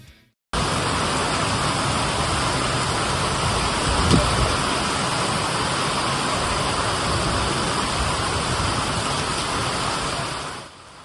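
Unseasonal rain falls steadily on farmland in Sangamner taluka, a dense, even hiss that holds at one loudness for about ten seconds with no voices.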